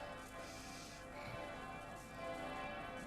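Church bells ringing, a sustained, faint metallic tolling in the background, continuous through the short moment.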